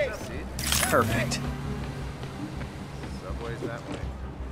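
In-game camera snapping photos in Spider-Man PS4: a crisp mechanical shutter click and whir burst near the start, followed by a low game soundscape with a voice speaking.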